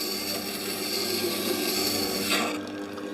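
A Scheppach Tiger 3000VS wet grinder sharpens a chisel held under light, steady pressure, giving a continuous close rasping hum that eases off near the end.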